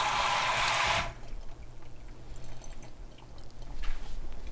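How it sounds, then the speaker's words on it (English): A sink sprayer rinses dirt off chanterelle mushrooms in a loud hissing burst for about a second, then shuts off, leaving faint drips and quiet handling sounds. "Definitely use your sprayer if you can. Really helps to get some of those items, those little specks of dirt out of there."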